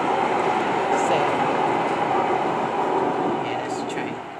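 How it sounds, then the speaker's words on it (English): A train passes nearby with a loud, steady rumble and rattle of its rail cars. The sound stays strong and then eases slightly toward the end, with a faint squeal near the close. "yeah, that's the train"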